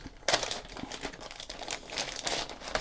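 A pack of Warhammer Age of Sigmar cards is unwrapped with close, continuous crinkling and tearing of plastic wrap, in irregular bursts with no talking.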